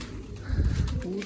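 Adult pigeons and young birds in a loft coo in a low, murmuring burble, close and brief, with a voice talking faintly alongside.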